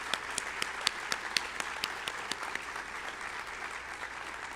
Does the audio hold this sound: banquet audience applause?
yes